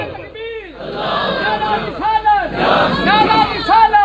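A crowd at a religious majlis gathering shouts a fervent chanted slogan in loud, repeated unison bursts, rising and falling in waves, close and dense with a leading voice calling out between responses.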